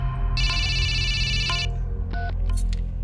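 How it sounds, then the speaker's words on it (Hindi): A telephone rings indoors in an electronic pattern, one long bright trill then shorter beeping bursts, over a low steady background hum. "तुम्हारा फोन बज रहा है, उठा लो"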